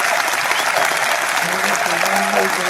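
Steady applause from a golf gallery after a shot, a dense crowd clapping throughout, with some voices mixed in underneath.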